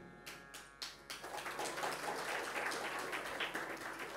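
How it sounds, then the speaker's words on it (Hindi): A crowd applauds at a devotional discourse on worshipping Lord Vishnu. A few sharp isolated claps come first, then they swell into dense, sustained applause from many hands, moderately distant in a large gathering. "ताली वो बजा रहे हैं"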